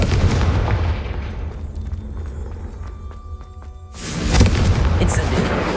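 A Confringo blast spell goes off in the Hogwarts Legacy video game: a loud, broad burst that swells over a rumbling fiery bed, then fades, and a second heavy blast erupts near the end, with game music underneath.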